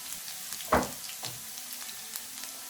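Fresh minced garlic goes into oil for an Indian-style masala pasta, with a brief clatter or splash as it is added followed by a faint, soft sizzle; no talking.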